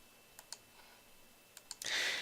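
A few crisp computer mouse clicks, spaced singly and in pairs, while a file is copied and pasted, followed by a short burst of brighter rustling noise at the end.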